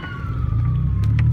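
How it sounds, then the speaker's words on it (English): An emergency vehicle siren wails on a winter road, a steady rising tone over the low rumble of a car's cabin, fairly close and loud. "so now I hear sirens"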